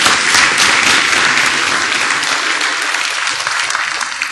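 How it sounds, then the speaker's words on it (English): A crowd gives a round of applause for the panelists at a music industry panel discussion, a loud, dense, continuous clapping that fades slightly toward the end. "give a nice round of applause to all of our panelists"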